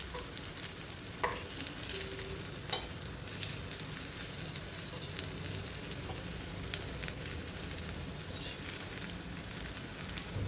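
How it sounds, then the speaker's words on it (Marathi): Vegetable vadi made from phanji leaves shallow frying in oil, a steady close sizzle throughout with a few brief scrapes and clinks as the pieces are turned over in the pan. "आता सर्व वडी मी अशीच शॅलो फ्राय करून घेणार आहे"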